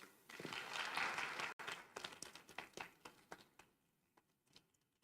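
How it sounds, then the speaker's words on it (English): Applause from a delegation audience at a formal legal organisation session, dense clapping at first and then thinning into scattered individual claps that fade out. "Let's welcome the presence of the Republic of Djibouti with a round of applause again"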